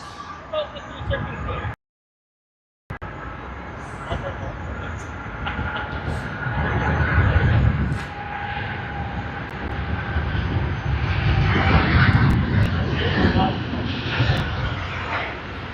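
An aircraft departs Sydney Airport with a building, rumbling jet roar that swells and stays loud and broad, with a short silent dropout early on and people talking over it.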